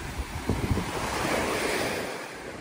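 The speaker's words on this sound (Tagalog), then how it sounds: "Ang lakas ng alon." Strong ocean surf roars steadily on a beach with heavy wind buffeting the microphone, a few thumping gusts near the start, and no voices.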